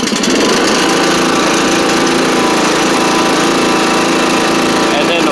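A Craftsman LT1000 riding mower engine runs steadily at close range, a loud continuous drone lasting the whole time, settling after the choke is pushed back down and the throttle is lowered.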